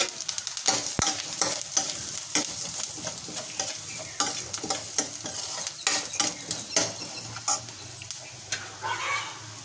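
Fenugreek, cumin and coriander seeds fry in a little oil under a steady sizzle, with rapid repeated stirring scrapes and clinks of a spoon against the pan.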